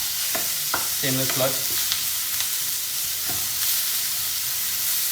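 Onions frying in a pan on medium heat, stirred with a wooden spatula, a loud steady sizzle with scraping strokes, and someone speaking briefly over it.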